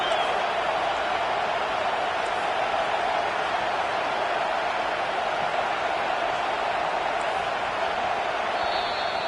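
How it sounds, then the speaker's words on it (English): A home crowd in an NCAA football video game sends up a steady, distant roar on third down, a wash of cheering noise that holds level throughout with no clear individual voices. "Here comes this home crowd as the defense tries to get off the field on 3rd down"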